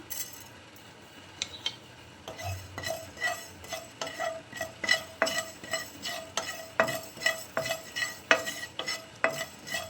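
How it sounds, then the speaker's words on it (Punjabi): Cumin seeds roast in a hot, dry frying pan over a medium flame as a utensil stirs them, giving a rhythmic run of scraping strokes and light clicks over a faint crackle. "ਇਹਦੇ ਵਿੱਚ ਆਪਾਂ ਪਾ ਦਾਂਗੇ ਜੀਰਾ ਜੀਰੇ ਨੂੰ ਭੁੰਨ ਲਾਂਗੇ ਆਪਾਂ"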